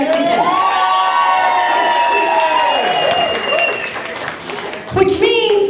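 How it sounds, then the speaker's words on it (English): An audience at a New Year's Eve 2014 comedy show claps and cheers loudly, with whoops and shouted voices over sustained applause that dips briefly before a final burst. "By applause, how many people are native New Mexicans?"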